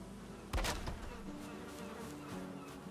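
Bees buzz steadily around beehives in the video game Valheim, a continuous close insect drone with a brief louder swell near the start.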